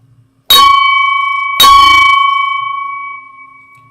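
A bell rings loudly and close by, two bright metallic strikes about a second apart, each leaving a long ringing tone that slowly fades.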